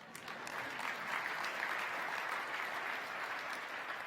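Sustained applause from an audience at an Under Armour company keynote, a dense, steady wash of many hands clapping that holds evenly for the whole stretch at moderate distance.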